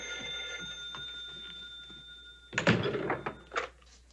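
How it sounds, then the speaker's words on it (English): A door being shut in a house: a close, heavy thud with a rattle, then a second softer knock, following a steady high electronic tone and quiet background. "Get out and close the door."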